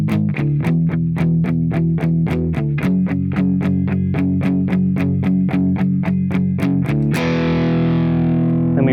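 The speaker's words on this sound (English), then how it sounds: "Exact same chord structure, we're just palm muting eighth notes." A distorted electric guitar chugs steady palm-muted eighth-note chords, tight and rhythmic, then finishes on one loud open chord left ringing; no talking.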